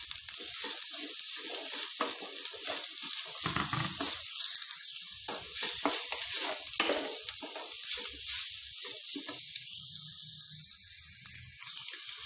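Vegetables sizzle and crackle in a hot pan while stirred now and then, a steady close frying hiss with no voices.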